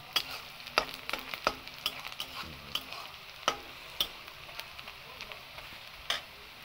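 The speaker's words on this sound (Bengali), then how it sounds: "আর পেঁয়াজ দিছি, এই দেখুন রসুন, এটা দিয়ে চিকেন বানাবো।" Onion and garlic fry in a pan for a chicken dish, a steady close sizzle broken by sharp clacks of a spatula stirring and scraping at irregular intervals, with nobody talking.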